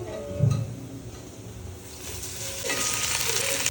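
Coriander and mint leaves fry in hot oil for biryani, starting with a soft clunk and a low sizzle. The frying swells into a steady, louder hiss near the end.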